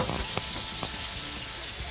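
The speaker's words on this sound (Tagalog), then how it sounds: "Nagprito din si Kuya Chito dito." Fish frying in hot oil gives a steady, close sizzle with faint crackles throughout, heard on its own without speech.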